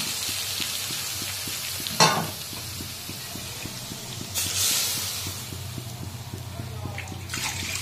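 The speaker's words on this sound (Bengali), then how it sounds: "আর এখানে দেখো মশলাটা দিয়ে দেবো এখন।" Spices added to hot oil in a pan, a steady sizzle with a rhythmic ticking in the background, a sharp clatter, then a surge of louder hissing and sputtering as more goes in.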